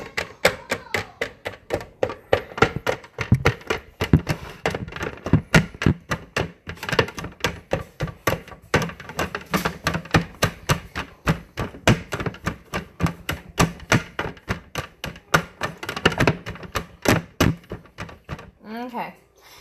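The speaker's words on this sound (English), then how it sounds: "I'm just chopping it up." Rapid, steady knife chops strike a cutting board over and over, close and crisp, with a brief voice near the end.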